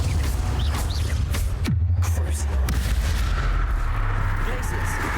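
Spell explosions from the video game Hogwarts Legacy, Glacius and Confringo casts, boom and crackle in loud, dense bursts over a rumbling combat soundscape, with one sharp blast near the midpoint.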